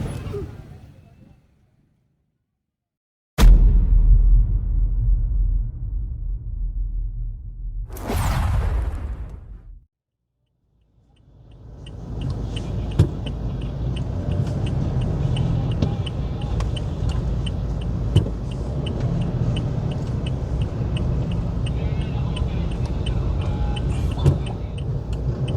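A tow truck hauls illegally parked cars off the street in front of a DPWH office. A quiet stretch is broken by sharp whooshes, then a steady, loud engine and traffic rumble carries on to the end.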